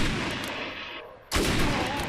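Gunfire in the shooter game Defiance: loud, dense bursts of shots fill the clip, briefly thinning in the middle before a sharp, heavy blast resumes the barrage. No one speaks.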